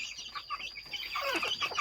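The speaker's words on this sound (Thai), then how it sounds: "ไก่เพิ่งปล่อยลงดินเป็นครั้งแรกครับ" Young chickens, a little over two months old and just released onto the ground for the first time, cluck and chirp softly and continuously nearby, with no talking.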